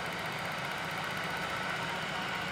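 A Caber Italy pillar drilling machine with 38 mm capacity runs its spindle at 320 rpm, giving a faint, steady motor hum with a fine even whir and no break.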